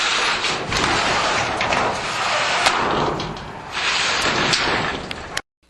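Rickety old tin shed doors being opened and closed repeatedly, a continuous rattly metallic clatter and scraping with a few sharper bangs, fairly close and loud, ending in an abrupt cut to silence.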